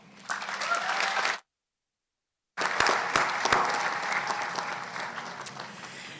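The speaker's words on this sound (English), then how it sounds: "And a great round of applause to all thesis writers." A commencement ceremony audience claps loudly for several seconds, stops abruptly for about a second, then breaks into sustained applause again with a few sharper individual claps standing out.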